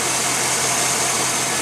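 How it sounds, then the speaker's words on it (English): A 2004 Chevy LS LR4 4.8L engine with about 109,000 miles idles smoothly and quietly, a steady, even broadband hum with no talk over it. "As you can hear, it's purring away in there,"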